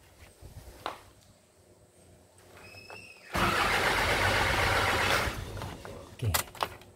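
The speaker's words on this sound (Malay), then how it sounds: "kalau kita start, engine memang tidak akan hidup lah" A common-rail Isuzu 4HJ1 diesel engine cranking without firing: quiet clicks and a short whine lead into about two seconds of loud, steady starter churning that ends abruptly, followed by scattered knocks and clatter.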